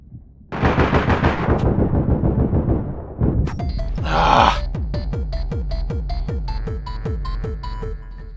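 Gunfire in the video game APB Reloaded: a long loud automatic burst, then a short pause and a rapid string of sharp single shots with a ringing echo, close and dominant.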